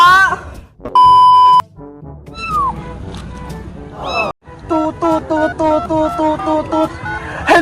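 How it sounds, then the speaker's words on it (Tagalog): A telephone gives a short electronic ring tone among cartoonish beeps and chirps, with animated voices talking around it. "Ay, may tumatawag sa telepono."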